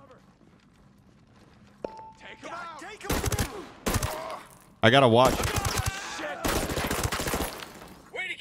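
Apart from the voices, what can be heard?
gunfire in video game Ghost Recon Breakpoint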